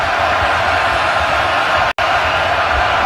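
A stadium crowd at an NFL game between the Houston Texans and Kansas City Chiefs roars steadily, a dense, continuous wash of cheering noise with one brief cut near the end.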